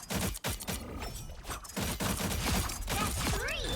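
Moon Knight's weapon firing repeatedly in Marvel Rivals, rapid sharp bursts with clattering mechanical impacts and sweeping effects, dense and loud, alone without talk.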